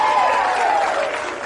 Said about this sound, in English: So the applause in the center, or in the middle of it, was quite long.